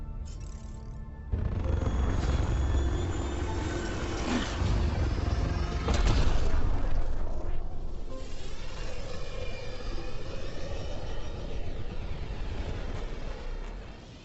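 The Tempest spaceship departs in Mass Effect Andromeda with a heavy, continuous engine roar. It swells in the middle, then holds as a steady, loud rumble before easing slightly at the end.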